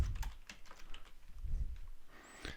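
Quick, irregular keystrokes on a computer keyboard, entering a list name in Trello, sound close and light, with a few louder clicks scattered through and no talking.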